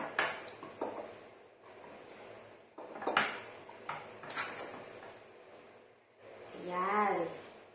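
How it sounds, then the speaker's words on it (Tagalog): A spoon stirs coffee jelly, giving light, irregular clinks and scrapes against the container at a quiet, close level. "Haluin lang po natin siya ng kutsara."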